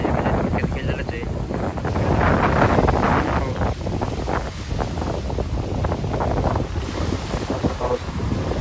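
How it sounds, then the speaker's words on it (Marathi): Strong wind buffets the microphone at the Nira Devghar dam near Bhor, a loud continuous roar and rumble with gusting swells throughout. "तुम्ही बघू शकता वारा भरपूर झाला आहे"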